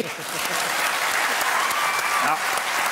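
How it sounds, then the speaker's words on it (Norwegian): Dense, steady applause from a Norwegian talk show's studio audience fills the room, loud and sustained from start to finish with faint voices blended in. "Det fortjener en applaus."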